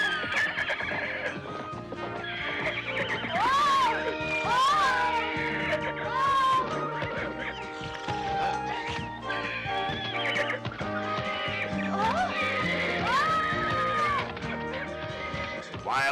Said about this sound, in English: Wildest horse on the plantation.